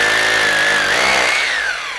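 A power drill bores into a wall in one loud, continuous, close burst of high grinding whine whose pitch wavers slightly, then the motor winds down at the end; no voices.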